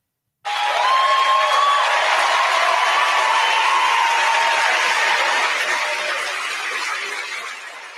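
An audience breaks into sudden, loud, sustained applause that stays dense for several seconds before slowly tapering off.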